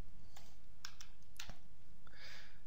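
A computer keyboard is typed on quietly, with a few scattered, faint keystrokes ticking over low background hiss.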